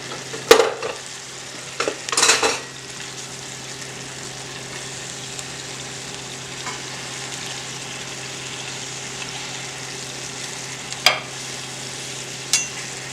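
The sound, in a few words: peaches slowly searing in a pan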